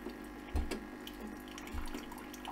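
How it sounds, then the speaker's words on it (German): Hot water runs through a Tchibo Cafissimo capsule machine for tea, a steady close pour with a soft pump-like hum and two brief low thumps. "Dann lassen wir jetzt ganz langsam das heiße Wasser durchlaufen."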